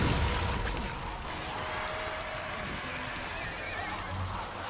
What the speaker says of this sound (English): That sounded like a horse. What was that noise? Did you hear that whinny?